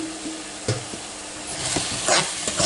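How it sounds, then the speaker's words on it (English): Seasoned yellow rice being stirred in a hot pan, a soft scraping and faint sizzle with a few louder spoon knocks, steady and close. "and then we'll stir to coat"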